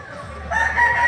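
A rooster crows at a poultry market in Lipa City, Batangas, with chickens clucking around it; the crow swells loud and close in the second half of the brief clip.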